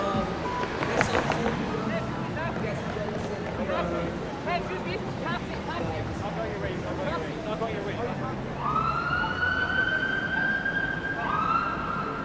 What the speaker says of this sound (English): There's the first time hearing sirens